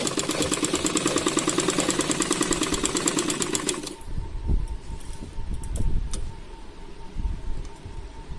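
Electric sewing machine stitching blouse fabric, a fast steady rattling run for about four seconds, then stopping to leave softer handling thumps and rustles nearby.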